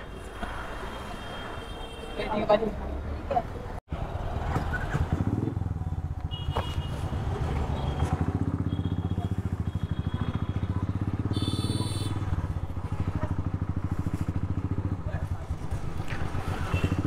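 A motorcycle taxi ride begins on a city road at night, with a continuous engine drone and wind rushing over the microphone as the bike gets moving, a sharp bump early on and faint voices underneath.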